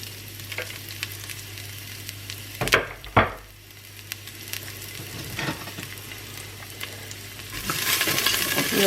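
Sliced onion is dropped into hot olive oil in a Cookeo, with a couple of sharp knocks and clatters up close, then a quiet sizzle that swells louder near the end.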